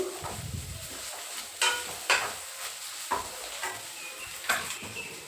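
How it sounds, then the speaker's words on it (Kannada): Carrots tipped into a pan of frying onion and ginger-garlic paste, with a steady soft sizzle and a few sharp clinks and scrapes of a spoon stirring against the pan, nearby and without talk. "ಈರುಳ್ಳಿ ಮತ್ತು ಶುಂಠಿ ಬೆಳ್ಳುಳ್ಳಿ ಪೇಸ್ಟು ಫ್ರೈ ಆದಮೇಲೆ ಕ್ಯಾರೆಟ್ ಹಾಕ್ಕೋಬೇಕು"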